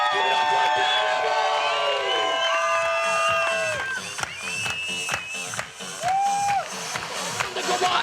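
A lively crowd shouts, whoops and cheers with bright tonal screams over scattered clapping and thumping, loud and close, the noise dipping briefly before rising again.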